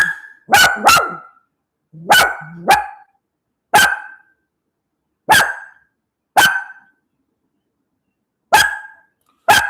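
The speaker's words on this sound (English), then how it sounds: "We don't need all that barking" A dog barks loudly and close by in repeated single and double barks, separated by silent pauses.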